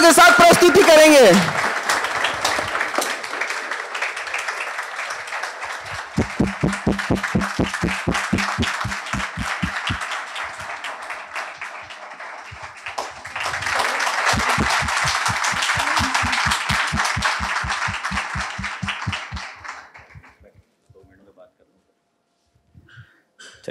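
An audience at a civil-services coaching institute's event honoring toppers breaks into loud, sustained applause, at first mixed with a voice, then rhythmic unison clapping that swells twice before fading out.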